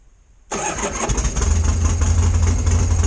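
A 1979 Harley-Davidson Ironhead Sportster engine cranks and catches abruptly with the enricher on, then settles into a loud, rumbling idle that builds slightly, close by.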